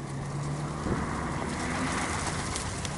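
Pigeons coo as they crowd in to be fed outdoors, a soft low murmur that runs steadily beneath a background of steady traffic-like noise.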